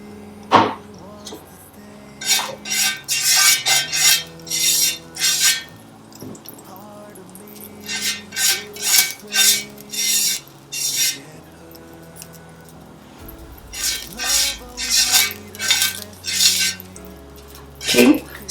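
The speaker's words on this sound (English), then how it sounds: "I'm just going to be greasing this pan with some melted butter." A metal utensil clinks and taps against a frying pan in repeated bursts while it is greased with melted butter for fluffy yoghurt pancakes. The clinking is close and clear, with short quiet gaps between the groups.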